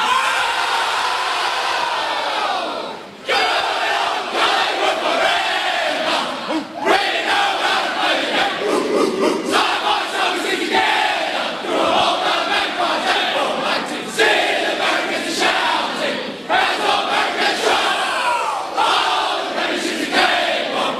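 Collingwood AFL players, packed into the rooms after winning the 2018 preliminary final against Richmond, loudly sing and roar their team song together, a dense, continuous crowd of voices echoing close by.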